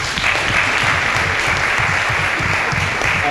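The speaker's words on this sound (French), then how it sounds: "Julie Aubé, vos applaudissements, s'il vous plaît." A loud, steady wall of audience applause at an anniversary youth forum event, thick and continuous without a break, with no talk standing out above it.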